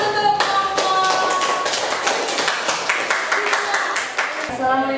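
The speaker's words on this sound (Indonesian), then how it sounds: "tepuk tangan untuk kelompok" A classroom group claps for a presenting group at a school coaching session, a dense patter of hand claps running throughout, with voices murmuring underneath.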